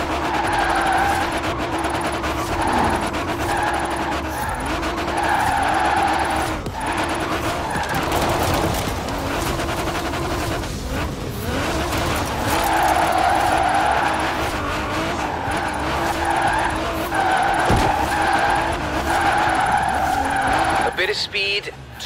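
A car drifts with the e-brake in the Drift Club video game, tyres skidding and screeching almost continuously over a droning engine, loud and close, with brief dips between slides.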